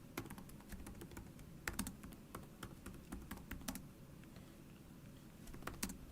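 Typing on a computer keyboard, an irregular run of crisp key clicks with occasional louder taps over a faint background hum, close and moderately quiet, with no talking.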